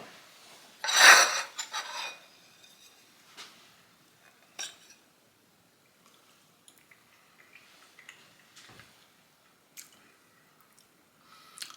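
Metal utensil scrapes and clinks against a cast iron pan while cutting a thick lemon pie, one loud scraping burst early then sparse faint taps and scrapes in near silence.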